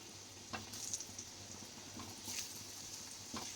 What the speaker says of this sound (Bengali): আমি এটা মাংসের আলুটা আগে ভেজে নেব